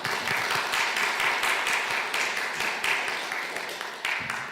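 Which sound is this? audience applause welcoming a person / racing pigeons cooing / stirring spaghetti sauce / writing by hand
audience applause welcoming a person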